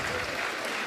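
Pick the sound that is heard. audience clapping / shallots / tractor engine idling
audience clapping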